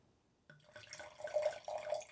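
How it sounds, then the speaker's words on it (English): White wine poured into a glass, a small tasting sample: a soft start followed by a gentle trickling, gurgling stream of liquid, close and quiet, with no talking. "So to properly taste a wine, you only pour a small sample"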